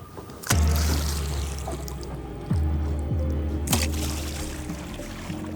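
Water is splashed by hand in a river to mimic a large crocodile moving quickly through the water: a few sharp, close splashes with dripping and trickling between them, and no voices.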